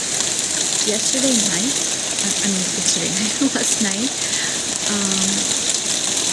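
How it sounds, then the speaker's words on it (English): Steady rain hissing across a surface, a dense even wash of drops, while someone talks over it in the foreground. "So, yeah, we have rain."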